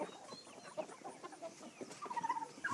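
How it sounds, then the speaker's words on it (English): Chickens and turkeys cluck and murmur in a farm pen, a steady scatter of soft, close calls with a few brief louder squawks toward the end. "Chickens and turkeys."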